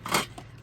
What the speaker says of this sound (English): I need my bigger scissors